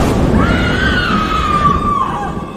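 A woman's loud, sustained scream in a Hindi horror cartoon story, a single rising then falling shriek held for about two seconds over a rumbling, noisy background.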